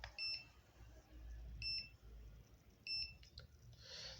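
A multimeter in continuity mode gives short high-pitched beeps as its two probe wires touch together, three brief chirps spaced more than a second apart over a low background hum.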